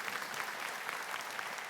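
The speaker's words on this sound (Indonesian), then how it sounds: "Berarti tepuk tangan buat Satgas ST." An audience at a Ramadan religious gathering claps in a brief, dense burst of applause, steady and fairly close, with no speech over it.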